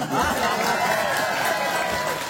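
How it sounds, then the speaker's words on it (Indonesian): A crowd at an Islamic sermon in Kuningan, held in front of a vice-regent candidate, applauds with dense, steady clapping that sounds fairly close and continuous, with some voices mixed in. "tepuk tangan"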